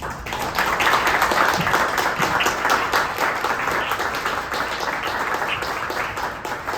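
An audience applauds to welcome award recipient Linda Mines at a National Freedoms Foundation Award presentation, with steady, dense clapping running throughout.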